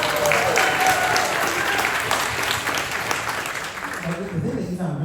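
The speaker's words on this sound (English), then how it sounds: "Big round of applause for Kevin." A theater audience breaks into sustained applause for a performer behind the scenes of Disney's Country Bear Jamboree, the dense clapping steady and close, thinning slightly near the end as a voice starts talking underneath.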